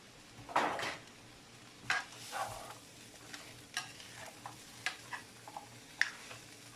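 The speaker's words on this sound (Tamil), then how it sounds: "ஸோ எல்லாம் நான் போட்டு இப்போ தாளித்து கொண்டிருக்கிறேன்." Carrots, potatoes and celery coated in turmeric are stir-fried in a pan: irregular scraping stirs and clinks of the utensil over a soft, steady sizzle, fairly close, with no voices.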